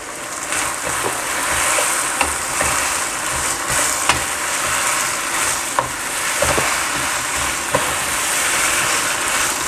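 Beef for Mongolian beef stirred in a hot pan, a steady close sizzle of frying with scraping spoon strokes and occasional sharp clicks against the pan, no talking.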